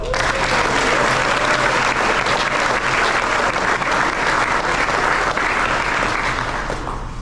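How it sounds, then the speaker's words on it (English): A crowd at an end-of-season awards event applauds an award group, dense sustained clapping that fills the room and tapers slightly toward the end. "Let's give this group a round of applause."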